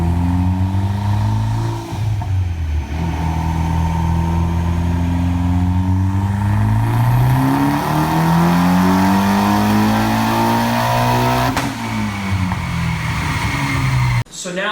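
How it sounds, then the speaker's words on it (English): A blue Mitsubishi Evo with full bolt-ons and a tune revs hard on a dyno, its engine note climbing steadily through the gears in loud, sustained pulls before cutting off abruptly near the end. "Here's a video of the blue Evo on the dyno."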